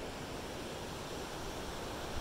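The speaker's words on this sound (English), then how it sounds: "that's the river right there." A river flows beside a level camp spot in the Mount Baker Wilderness, giving a steady, dense rushing wash that stays constant and fairly loud throughout, with no voices over it.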